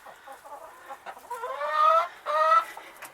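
Chickens cluck and squawk inside a backyard coop with nest boxes, a run of bright, harmonic calls building in the middle and repeating near and fairly loud, with no talk.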